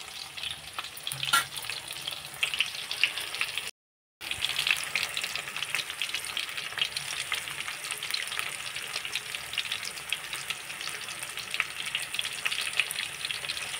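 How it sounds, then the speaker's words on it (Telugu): Ingredients for a bitter gourd curry crackle and fry in a pan, an even, soft sizzle with light stirring. It drops out for a moment near the start, and nobody speaks. "నేను ఇలా ఏమి వేపుతున్నానండి. వేగుతున్నాయి"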